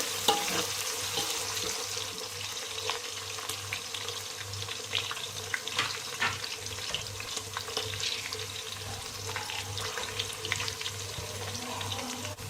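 Onions and green chillies frying in oil for biryani, a soft continuous sizzle with light stirring and a low steady hum underneath, no talk.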